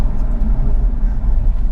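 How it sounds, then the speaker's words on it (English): The V8 of a Jaguar F-Type R rumbles loudly in a deep, steady burble from inside the car on the move, with no speech over it. "Likes making a lot of noise, this car."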